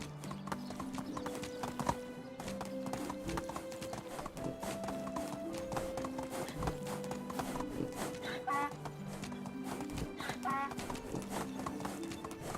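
Horse hooves galloping in a steady clip-clop rhythm while riding in the medieval farming game Medieval Dynasty, over a continuous bed of in-game music, with an occasional whinny.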